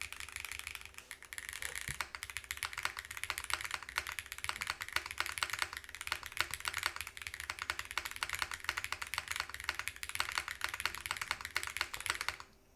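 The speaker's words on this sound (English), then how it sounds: "We haven't even done a typing test on it yet." Rapid, steady keystrokes on a Glitter65 R2 mechanical keyboard with noticeable flex, clacking close and clear through a typing test with no talk over it.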